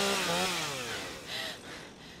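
A chainsaw in the horror game Leatherface: Shadow of Massacre revs loudly and close, its engine pitch rising and falling in a continuous snarling drone.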